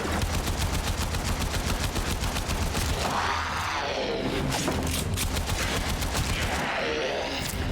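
Rapid automatic gunfire from a primary weapon in the video game Warframe, loud and close, with fast repeated bursts and heavy impacts in a sustained volley.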